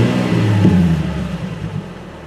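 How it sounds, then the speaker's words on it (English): A Nissan 350Z engine with a new heavy-duty clutch and flywheel revs briefly, a steady mid-pitched hum rising slightly then easing off, heard close and alone. "And I'll rev it a little bit."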